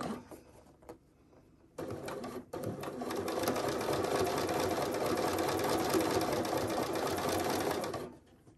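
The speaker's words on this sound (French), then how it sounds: "Et je couds tout doucement." A sewing machine stitches a zipper seam, starting with a few short stuttering bursts before settling into a fast, steady close whir that runs for several seconds and then stops.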